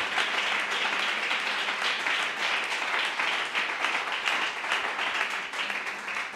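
A church congregation applauding during a Spanish-language sermon, sustained broad clapping from many hands at moderate distance, steady throughout.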